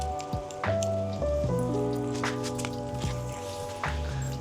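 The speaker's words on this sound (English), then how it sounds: "Oh, it's gonna start raining." Rain begins to fall outdoors in Hawaii, a steady light patter that runs through the whole clip beneath clear, sustained tonal sounds.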